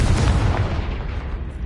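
A Confringo explosive curse cast in a wizard video game bursts as a single loud, broad blast close by, its roar fading over about a second and a half.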